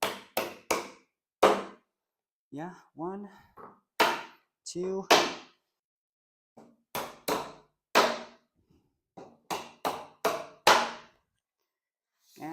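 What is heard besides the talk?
hammer tapping wooden drawer part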